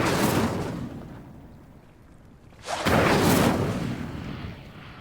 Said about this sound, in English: These pillars are pyres, and pyres are meant to be lit.